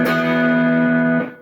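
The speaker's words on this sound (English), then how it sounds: "this Telecaster with a little bit of distortion on" A single distorted chord on a Telecaster electric guitar rings out bright and buzzy, sustaining for about a second before being cut off.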